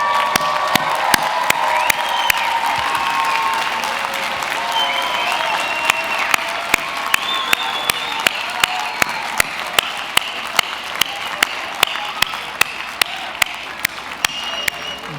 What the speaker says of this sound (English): give them a round of applause for all that they have done to help to get you